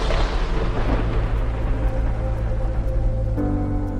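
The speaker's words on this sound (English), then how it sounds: "as well as Thunder and Crack." Thunder sound effect paired with rain: a dense, steady roar of rainfall over a deep, continuous rumble, loud and unbroken, with a slight tonal shift near the end and no voices.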